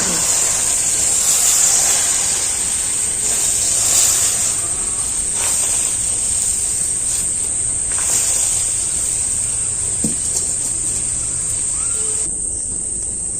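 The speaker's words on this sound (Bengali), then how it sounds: "এবার আমি এই ডিম গোলাটা কড়ার মধ্যে দিয়ে দিচ্ছি" Beaten egg poured into a hot wok makes a steady high hiss and sizzle that continues throughout, close and fairly loud, with faint clinks near the end.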